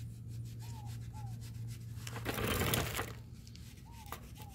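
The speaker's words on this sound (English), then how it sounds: "I'm going to try a little steel wool." Steel wool scrubs surface rust off GM brake parts in a garage, a soft rhythmic rubbing that swells into a louder, harsher scrape for about a second before easing back.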